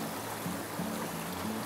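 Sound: creek flowing water on a hiking trail

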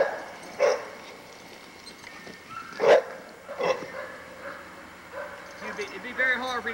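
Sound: pit bull dogs barking in a kennel yard

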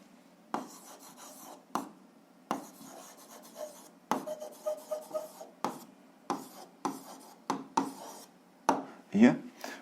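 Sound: pen writing answer on paper

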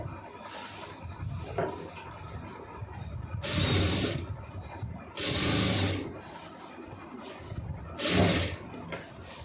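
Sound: sewing machine stitching a boat neck

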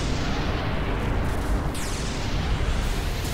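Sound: explosion in the video game Final Fantasy X

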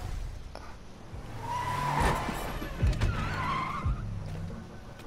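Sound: car skidding in Fortnite trailer, video game

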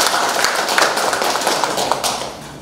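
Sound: audience clapping at a photography club ceremony

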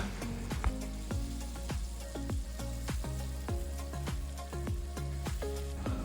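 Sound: stirring fish and seasonings frying in a pan

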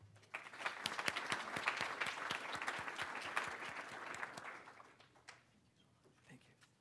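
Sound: audience applause at a conference

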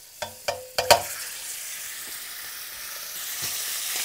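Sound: meat browning and sizzling in a hot pan with butter

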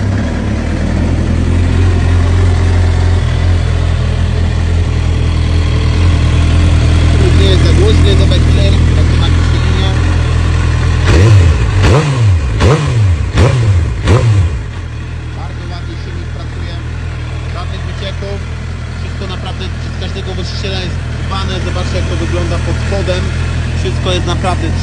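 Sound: Suzuki GSX-R 750 K8 motorcycle engine starting and revving

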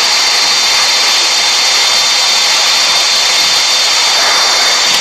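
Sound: jet airliner taking off in Real Flight Simulator video game

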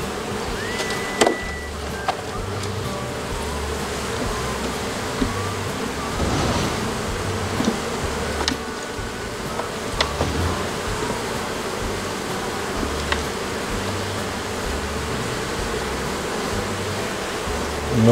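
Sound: honey bees buzzing around a beehive

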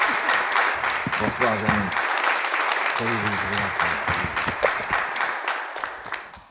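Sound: audience applause for a singer on a TV show

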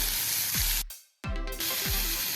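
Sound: sautéing chopped tomato in a pan for coconut kofta curry

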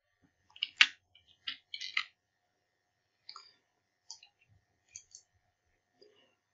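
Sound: typing on a computer keyboard

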